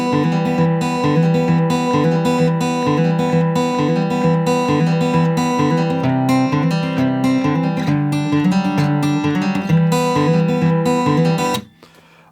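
Fingerpicked acoustic guitar plays the verse of a song at a slow, steady pace, with the notes ringing together, loud and close. It plays alone, without voices, then stops abruptly near the end.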